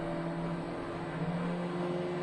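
A car engine in a driving video game holds a steady high rev, a constant buzzing drone with sustained tonal whine throughout the brief stretch.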